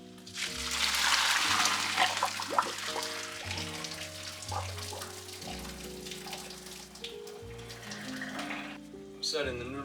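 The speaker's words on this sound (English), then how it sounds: "Strain the noodles." Cooked linguine noodles are poured into a strainer, with rushing, splashing water draining steadily for several seconds while background music plays.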